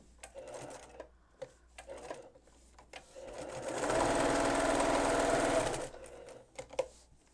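A sewing machine fitted with a walking foot stitches through a quilt layered with cotton batting, running as a steady rapid whirring burst of about two seconds between quieter handling sounds and brief pauses.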